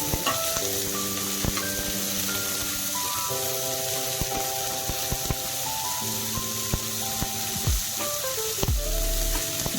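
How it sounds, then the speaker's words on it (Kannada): Onion, green chilli and curry leaves frying in a pan for capsicum fry, a steady close sizzle and crackle with occasional stirring clatter, no talking. "ಈರುಳ್ಳಿ ಹಾಕ್ತಾ ಇದ್ದೀನಿ. ಈರುಳ್ಳಿ, ಹಸಿಮೆಣಸಿನ್ಕಾಯಿ, ಕರಿಬೇವು ಮೂರನ್ನ"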